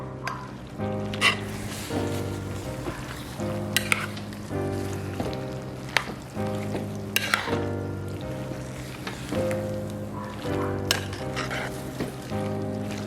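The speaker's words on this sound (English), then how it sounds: "So I'm just gonna give this a stir." A spoon stirs pork enchilada filling with cut tortillas in green chili sauce, giving soft wet scraping and sloshing strokes over a steady bubbling simmer, with a low hum throughout.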